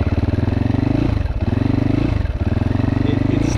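A GPX FSE300R motorcycle engine runs close and loud at a steady, pulsing idle on its stock Delphi MT05.2 ECU, with brief dips in the rhythm around the start and middle.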